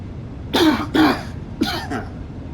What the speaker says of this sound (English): Let me cough my lungs out.